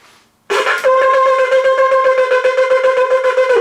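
A shofar sounds shvarim, a sustained horn note broken into rapid, rhythmic pulses after a sharp start, loud and close with no other sound.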